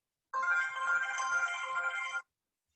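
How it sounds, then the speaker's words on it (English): A phone ringtone plays steadily for about two seconds, a bright electronic melody that starts and stops abruptly, heard alone with no talking. "my phone's ringing."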